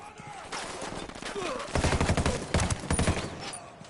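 Gunfire in the Ghost Recon Wildlands video game, a short burst of rapid automatic shots building into louder, denser volleys over about four seconds, with a voice briefly heard alongside.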